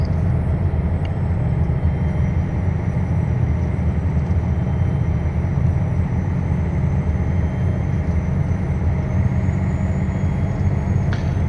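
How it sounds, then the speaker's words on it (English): Steady, loud engine drone of a truck in American Truck Simulator, a continuous low rumble with constant road noise throughout and no talk over it. "I just like the sound of the truck, just a really good sounding truck."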